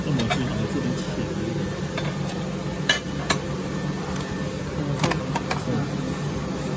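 A high-frequency fusing machine for embossing massage insoles and sponge heel pads runs with a steady electrical hum and a few sharp snapping clicks, heard close and without speech.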